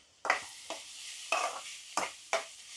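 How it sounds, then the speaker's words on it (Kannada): A spatula stirs capsicum and cabbage fried rice in a pan, making five distinct, quiet scraping strokes at an uneven pace with faint sizzling between them and no talking. "ಹೀಗೆ ಹುರಿಯಿರಿ. ಇದು ಫ್ರೈಡ್ ರೈಸ್ ಮಾಡ್ತಾ ಇರೋದು."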